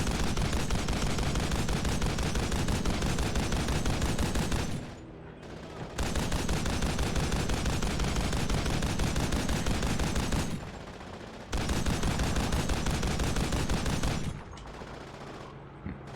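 A machine gun fires in an old video game: long sustained bursts of rapid, loud automatic fire lasting several seconds each, separated by short pauses, repeating three times.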